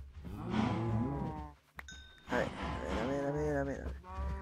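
Cows mooing in Minecraft, two drawn-out moos close together with a brief click between them, fairly loud and clear.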